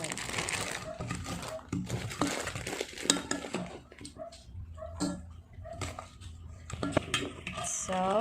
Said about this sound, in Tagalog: So, i-mix natin ng mabuti yung ating sauce.